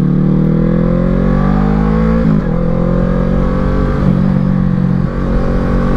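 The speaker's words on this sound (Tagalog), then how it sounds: "Ang ganda ng engine brake." Kawasaki Z650 motorcycle engine braking on a ride, a loud, close, continuous engine drone whose pitch shifts and drops as the revs fall.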